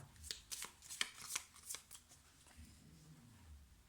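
Playing cards being shuffled by hand, a quick series of crisp riffling bursts in the first two seconds followed by softer rustling, close and fairly quiet.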